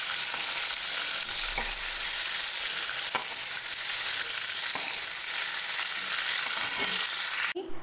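Shrimp fry in oil, turned from one side to the other, with a loud continuous sizzle, a few soft taps of a utensil, and a sudden drop at the end.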